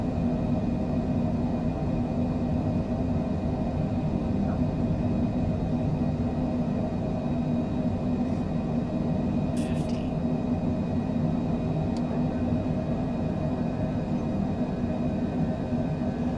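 A Cessna Citation Longitude jet at takeoff from Aspen in Microsoft Flight Simulator 2020 gives a steady low engine rumble with a constant whining tone, unbroken throughout, with a few faint clicks partway through.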